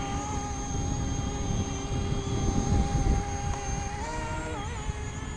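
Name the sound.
E-Flite Convergence VTOL RC plane throttle blip into flight mode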